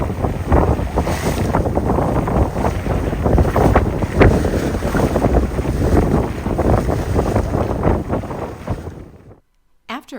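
A boat pitches through rough open North Sea water near Fair Isle, off Shetland, with loud, continuous wind buffeting the microphone and crashing waves throughout, cutting off abruptly near the end.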